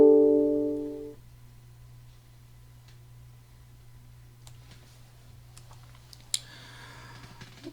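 Faint, sparse key taps on a calculator follow a brief tone at the start. The light clicks are scattered and soft over a low steady hum, with no talking.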